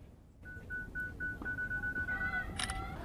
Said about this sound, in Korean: 스마트폰 카메라로 사진을 찍을 때도 셔터 버튼 누르고